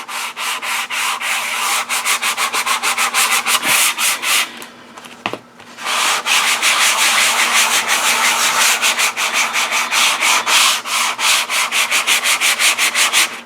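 A journal cover is sanded by hand with fine 220-grit sandpaper, giving quick rhythmic scratchy strokes close up that pause briefly midway and then resume at the same brisk pace.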